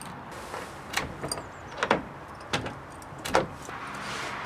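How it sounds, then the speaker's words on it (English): A garage door swung shut and a key turned in its bolt lock, several sharp metallic clacks and rattles spaced over a few seconds against a quiet background. "So now when we close the door and turn the key,"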